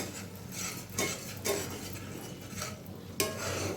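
Spices fry in oil with Kashmiri chili powder while water is added and they are stirred down, with a low sizzle broken by a few spoon scrapes and clinks against the pan.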